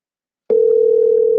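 A telephone dial tone starts abruptly after half a second of silence, then holds as a loud, steady, unbroken hum for the remaining second, with no voices.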